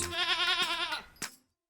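A goat bleats loudly and nearby in one long, wavering call, followed by a short second burst before it cuts to silence.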